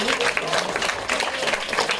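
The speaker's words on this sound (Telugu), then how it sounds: "అందరూ ఒకసారి క్లాప్స్ కొట్టండి" Audience clapping at a Christmas program, a brief dense burst of many hands under a speaking voice.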